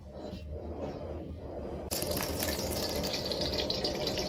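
Sausage rinsed under a running kitchen tap while cooking a garlic scape and egg stir fry; steady gushing water fills the clip, swelling louder and brighter about halfway through as the flow strikes harder.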